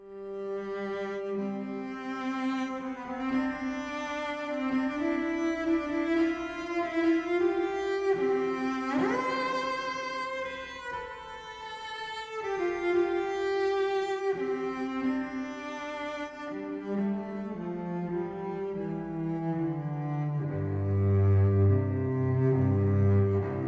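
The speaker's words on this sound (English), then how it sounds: "Then I like to use the Tina Guo legato patch" A Cinesamples Tina Guo legato cello patch plays a slow, expressive melodic line with smooth sliding transitions between sustained notes, rich and resonant, alone without any talk.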